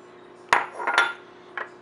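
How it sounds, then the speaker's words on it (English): A cup of flour tipped into a shallow bowl while making smothered pork chops, marked by three sharp clinks and taps of utensil against the dish, spaced apart over a quiet background. "In this shallow bowl, I'm going to put the 1 cup of flour."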